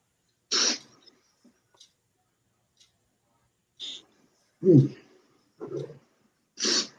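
A sharp sneeze bursts out near the start during a football broadcast of Patriots vs. Cowboys, followed by scattered short throat noises and a few more abrupt vocal bursts with quiet gaps between.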